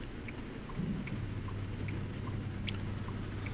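Steady in-game rain in American Truck Simulator patters down continuously, with faint scattered drips and a low rumbling hum underneath, even and fairly loud throughout.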